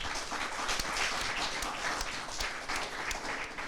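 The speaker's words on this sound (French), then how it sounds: "on les applaudit très fort" A television game-show studio audience applauds, a dense steady wash of many hands clapping close by that holds evenly throughout, with no voices over it.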